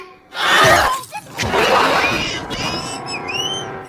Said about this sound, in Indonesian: tiba-tiba ada zombie nabrak kaca jendela sebelah istrinya